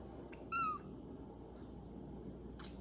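A female pet cat lets out a single short, clear meow, fairly faint in a quiet room, followed later by a softer brief sound.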